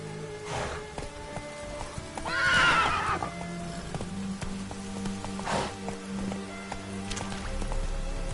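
A horse in the Witcher 3 video game gallops with rapid clip-clop hoofbeats and lets out a loud whinny partway through, close and clear over faint ambient game sound.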